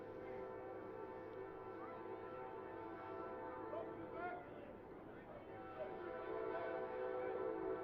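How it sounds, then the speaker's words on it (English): An Amtrak 520 passenger train rolls through a college campus beside a baseball game, its steady rumble and horn-like drone holding for the whole stretch, with crowd chatter and voices over it. "Comes the 520 Amtrak through campus."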